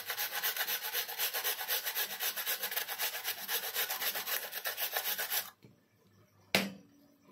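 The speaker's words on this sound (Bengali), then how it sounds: "বিটটা ঘষে নেব গ্রেটারটায়।" Beetroot is rubbed quickly against the fine side of a kitchen grater in a home kitchen, giving a rhythmic rasping scrape for about five seconds that then stops, followed by a single sharp knock.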